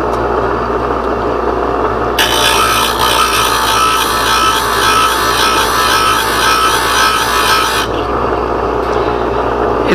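A grinder removes extra metal from the ends of a steel sash profile scraper blade, a loud continuous abrasive roar with a harsher, brighter grinding stretch in the middle, heard alone without talk.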